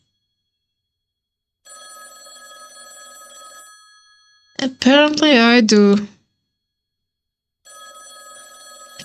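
A payphone rings with two bursts of electronic trilling separated by a gap, clear and alone against silence, and someone speaks briefly between the rings.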